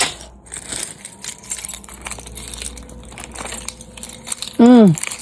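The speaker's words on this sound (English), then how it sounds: "Too many keys." Several car keys jangle and clink in brief bursts close by, with some rustling and knocking between them and a short high electronic beep near the end.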